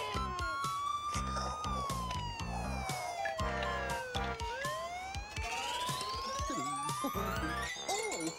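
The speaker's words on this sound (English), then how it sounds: "That's the toy ambulance." A toy ambulance plays a busy electronic wailing siren that sweeps up and down in pitch. It is layered with jingly tones and lasts the whole stretch, loud and close.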